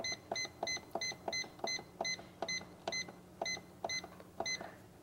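A Cuisinart pressure cooker gives around a dozen short, quiet electronic beeps in a quick, uneven series as its buttons are pressed to select high pressure and set the timer.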